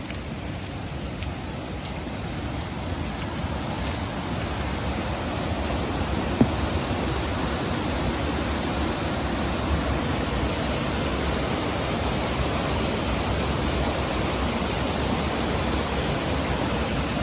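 Steady broadband rush of a waterfall in North Pennines woodland in Weardale, swollen after recent rain, a constant close roar with no breaks and no voices.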